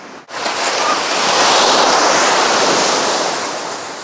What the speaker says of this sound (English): Sandy Beach is also known for the big and dangerous shore breaks.